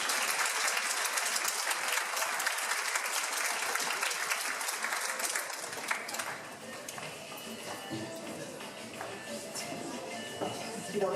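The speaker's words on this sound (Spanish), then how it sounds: "La recibimos con un fuerte voto de aplauso." An audience at an academic keynote lecture at a university in Arequipa claps loudly to welcome the guest of honour. The dense, sustained applause eases slightly partway through but goes on steadily to the end.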